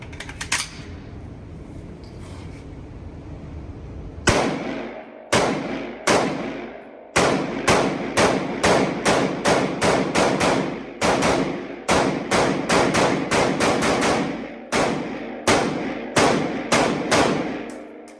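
A Cobalt Kinetics range rifle with an auto loader is fired at a range, sharp loud shots cracking out singly at first and then in a rapid, fairly steady string of repeated reports with brief pauses.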